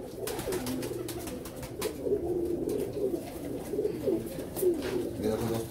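Cooing from Nayab Taddy pigeons held close by, soft repeated low murmuring calls running steadily throughout, with faint background voices and handling noise.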